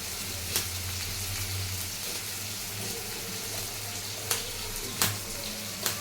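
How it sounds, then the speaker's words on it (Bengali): Jackfruit seeds fry in a pan with a steady, moderate sizzle and a few sharp clicks or pops, no voices. "কাঁঠাল বিচি ভাজা বসাই দিলাম।"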